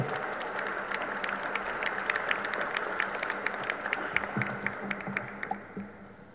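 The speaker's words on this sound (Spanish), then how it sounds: "vamos a recibirlo con un fuerte aplauso" An audience at a sports commission session applauds to welcome a Mexican Sports Confederation official, moderate clapping of distinct individual claps that thins toward the end.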